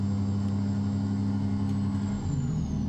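Kenworth W900 truck engine in American Truck Simulator, a steady low diesel drone at idle or cruise with a faint whine above it, constant and moderately loud without speech.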